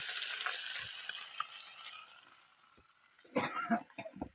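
Big river fish fry in a pan with a steady hiss of oil that fades, then sharper crackles and bubbling bursts return near the end.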